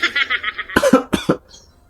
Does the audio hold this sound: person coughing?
yes